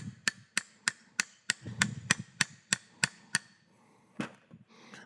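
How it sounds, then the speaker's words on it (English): A hammer taps a new U-joint cap into a cleaned bore: about a dozen crisp metallic knocks in an even rhythm, close and fairly quiet, then a couple of scattered softer knocks. "Give it a little tap to get it kind of set."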